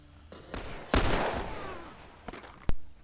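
Several loud gunshots ring out in The Last of Us Part II, a sharp blast near the start followed by a rumbling tail, two quicker cracks later and a final sharp report close to the end.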